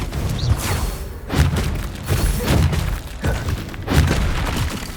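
Fiery Confringo spell blasts in Hogwarts Legacy, a run of about five loud booming impacts at uneven intervals, each with a crashing, shattering edge over a rumbling battle background.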